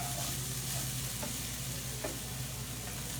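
Onions frying in a pan for a Greek grape-leaf stuffing give a steady close sizzle, with a couple of faint stirring scrapes and no talking.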